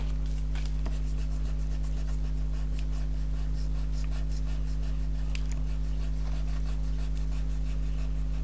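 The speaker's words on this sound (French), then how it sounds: "Du coup, moi je vais gommer." A rubber eraser rubs over pencil fold marks on paper for a scrapbook bottle craft, producing a soft, steady scratchy friction close by under a constant low hum, with no talking.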